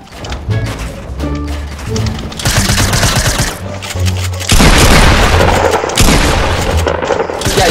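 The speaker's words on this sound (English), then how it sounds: "Yeah, you got the shotgun." Shotgun blasts and rapid gunfire in a Fortnite playground 1v1, loud and dense, piling up over game music with tonal notes. A faint voice sits under the shooting.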